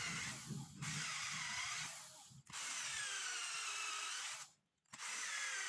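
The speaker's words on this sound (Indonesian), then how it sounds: "lalu kita bor" A power drill whines as it bores into wood for a dispenser table, running in three long bursts separated by brief pauses, close and loud.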